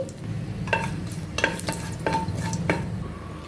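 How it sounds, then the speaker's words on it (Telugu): Whole spices (cinnamon stick, cardamom pods, cloves and bay leaf) sizzle in hot oil for tomato rice, a steady close crackle with a few sharp clinks of a spoon against the pan. "ఇప్పుడు ఆయిల్ వేడెక్కిందండి. కొద్దిగా దాల్చిన చెక్క వేయాలి. 2 ఇలాచీలు, 3 లవంగాలు, కొద్దిగా బిర్యానీ ఆకు వేసుకోవాలి."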